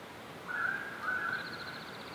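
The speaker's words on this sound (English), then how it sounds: "There was a currawong." A currawong gives a short, faint ringing whistled call, two drawn-out notes heard from a distance over quiet outdoor background noise.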